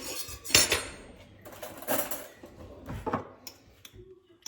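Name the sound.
stirring a whipped cream mixture in a bowl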